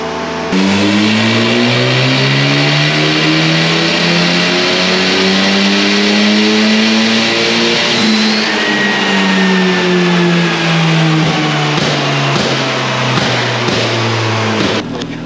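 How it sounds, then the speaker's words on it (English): Supercharged Nissan K11 Micra engine running on a dyno, revving up and down in long sweeping rises and falls with a prominent whine, loud and continuous. "Probably hear him in the background going up and down on the dyno"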